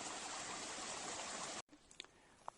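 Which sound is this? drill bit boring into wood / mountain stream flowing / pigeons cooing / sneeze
mountain stream flowing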